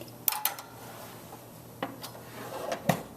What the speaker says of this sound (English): Popping the casserole into the toaster oven